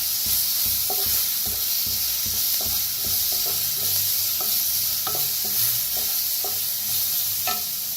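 Ingredients for kadhi vada fry in a pan under a steady, loud sizzle, while a spoon scrapes and taps the pan in a regular stirring rhythm.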